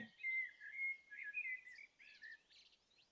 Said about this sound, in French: en dehors peut-être des chants d'oiseaux ou tout simplement les chants d'oiseaux